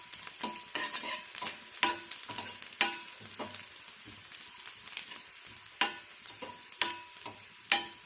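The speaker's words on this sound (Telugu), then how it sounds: "శనగపప్పు కలర్ మారేంత వరకు వేగించాలి." Chana dal, ginger and garlic frying in a pan make a steady sizzle, with repeated sharp scraping strokes of a spoon at an uneven rhythm, close by and with no speech.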